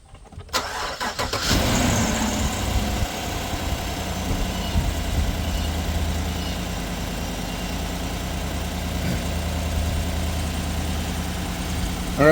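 A pickup truck's engine is cranked by hand with the key, catches after about a second and a half, then settles into a steady, fairly loud idle for the rest of the clip, with no talk.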